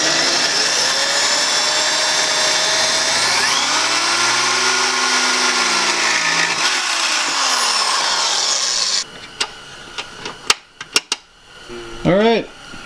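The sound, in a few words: drilling holes in metal bracket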